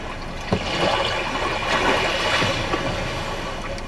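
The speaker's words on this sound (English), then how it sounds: "if you want to go into media, you can go to the sounds of nature and get some calm sea waves" Calm sea-wave nature sounds playing from the media system of a 2021 Kia Seltos SX Turbo: a continuous, fairly loud wash of rushing water with small splashes.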